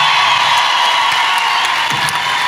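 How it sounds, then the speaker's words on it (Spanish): A studio audience at a comedy talk show greets a guest with clapping and scattered whoops, a steady crowd roar with a few sharper shouts and no speech on top. "reciban con un fuerte aplauso"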